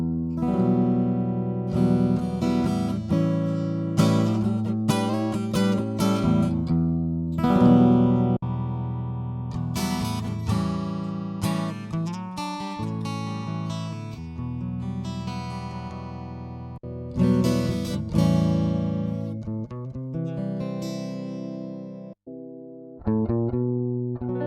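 Acoustic-style guitar played alone, with bright strummed chords and picked notes that ring out in a steady, fairly loud run of phrases.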